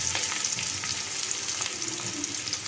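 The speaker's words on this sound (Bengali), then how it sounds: "পেঁয়াজটা প্রায় ভাজা হয়ে এসেছে।" Chopped onion nearly done frying in a pan for prawn malai curry, a dense continuous sizzle with soft crackles and occasional stirring, close and fairly loud, without voices.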